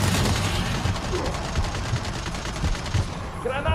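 A turret fires in Gears of War 4 as dense, rapid automatic gunfire rattles continuously in a loud, chaotic combat mix, with a voice shouting over the barrage.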